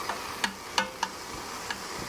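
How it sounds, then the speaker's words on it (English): Ground beef frying in a Ninja Foodi pot gives a faint background sizzle, broken by a few sharp clicks and taps of a utensil against the pot. "So I am starting to hear a little bit of a sizzle."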